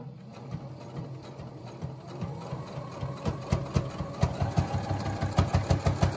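A sewing machine stitching straight seams on a pleated fabric mask. It starts with slow, hesitant pulses, then speeds into a steady, loud, rhythmic needle clatter.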